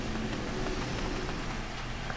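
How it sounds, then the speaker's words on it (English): Steady rain falls in the Final Fantasy XIV game world, a constant soft hiss of drops with faint low rumble, even and moderately loud throughout with no talk over it. "Oh, it's raining."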